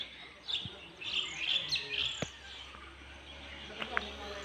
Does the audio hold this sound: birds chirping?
yes